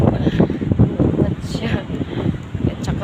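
Gusty wind buffets the microphone with low rumbling, while someone talks over it in Tagalog outdoors.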